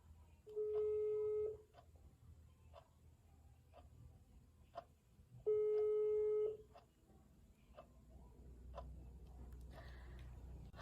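A telephone line plays two long, steady tones during a phone call, with faint ticking clicks in between and low background noise.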